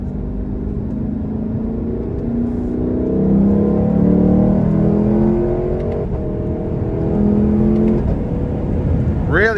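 A 2021 Lexus LC500 Convertible accelerates hard on an interstate merge, its engine note rising and swelling steadily over about ten seconds as a loud, continuous drone from inside the cabin.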